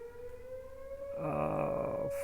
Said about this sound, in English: they always test the tornado sirens. So ignore the tornado siren blaring in the background a minute.